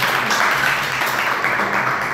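An audience at a teacher training session claps together, a brief, dense burst of applause heard up close and fairly loud.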